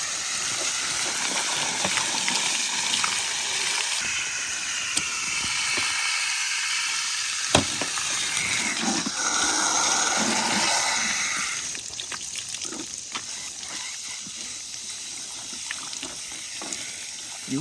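Running water washing down butchered Kunekune piglets: a steady hiss of spraying and splashing water with a brief clunk midway, fairly loud and close, easing somewhat toward the end, with no talk.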